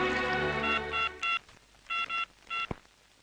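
Telephone keypad dialing: a run of distinct touch-tone beeps in uneven bursts, about seven tones, followed by a sharp click, near and clear over a quiet background.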